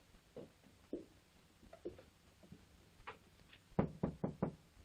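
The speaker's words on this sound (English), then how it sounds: "Can't you knock any louder than that?" Knocking on a wooden door in an old horror film, a few scattered raps followed by a louder quick run of four knocks near the end, with no talk.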